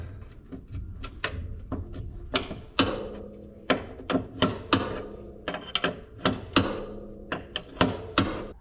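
Wrench clicking and ratcheting against a nut on a combine harvester, in short irregular bursts of metallic taps and scrapes, close and fairly quiet.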